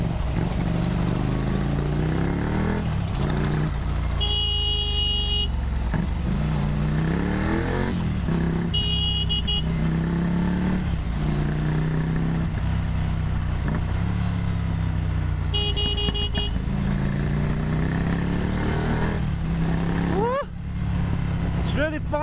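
A Ducati Monster 797 motorcycle with a loud aftermarket exhaust on a test ride, its engine droning steadily throughout with rising and falling revs, a brief drop near the end, and a voice faintly present over the engine.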